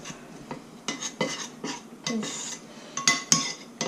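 A utensil scrapes and clinks against a bowl in irregular strokes, stirring a cornstarch and water mixture, close up, with occasional sharper metallic taps.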